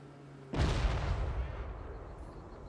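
Cannons fire in the fantasy battle game Total War Warhammer 3: one sudden, heavy blast hits hard, then a long rumbling roll fades slowly away.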